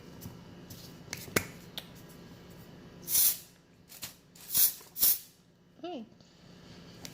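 Texturizing hairspray spritzed in three short, sharp hissing bursts close by, with light handling clicks and rustles of packaging in between and a brief vocal sound near the end.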